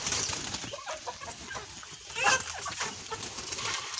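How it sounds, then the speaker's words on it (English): Chickens on a village chick farm in Africa cluck softly amid a busy, noisy backdrop, with a brief louder squawk near the middle and faint wing flutters, with no talking. "those are the big chicken"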